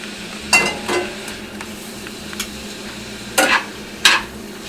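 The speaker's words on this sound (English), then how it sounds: "I have my pan right now heated up with the oil that I have, and I'm going to go ahead and add the meat." Meat hits a hot oiled pan, giving a low, steady sizzle broken by several sharp scraping stirs of a utensil against the pan, spaced unevenly and close by.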